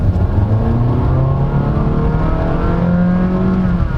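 A 2024 Honda City S sedan, 120 horsepower, accelerating at full throttle in eco mode, heard from inside as a steady engine drone rising in pitch over tire noise.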